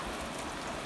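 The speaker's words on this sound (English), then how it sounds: "I hope it just keeps raining." Steady rain falls outdoors at a livestock corral, a continuous soft hiss with faint pattering, no voices.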